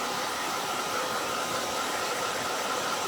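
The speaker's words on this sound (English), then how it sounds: "Let me grab the blow dryer again, and we're gonna blow dry the shading" A blow dryer runs steadily at close range while drying paint shading on a hand-painted Santa Stop Here sign, giving a continuous even whoosh with a faint whine on top.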